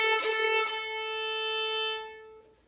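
A short run of three sustained pitched notes played one after another in quarter, eighth and half note lengths, the last held longest before fading out, clear and alone.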